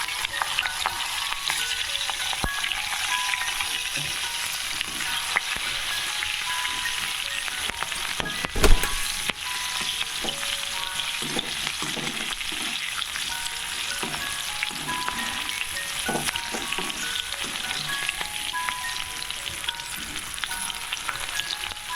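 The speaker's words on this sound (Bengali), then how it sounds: "এবারে আমি ক্যাপসিকামটা তেলের মধ্যে ভেজে" Capsicum frying in hot oil, a steady, dense close-up sizzle that runs unbroken, with occasional stirring scrapes and one sharp knock partway through.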